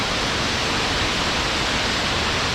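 Loud, dense roar of a waterfall heard close up at Carter Falls on Mount Rainier's Wonderland Trail, a steady broadband rush with no pauses or voices.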